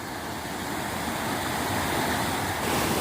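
A steady, dense rush of a forest waterfall at dusk roars continuously, broadband and fairly loud, with no voices.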